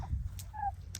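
Soft clucking from pasture-raised turkeys over a low, steady barn hum, with a couple of short breathy bursts and a brief tonal call in the middle.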